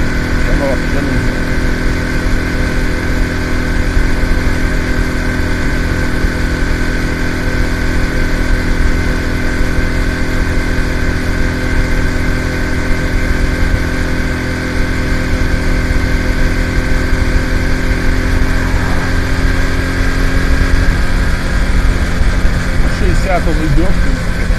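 The engine of a Roliz Alpha Tourist moped purrs steadily while riding at light throttle, a constant mid-pitched drone up close, with wind noise and a rider talking over it throughout.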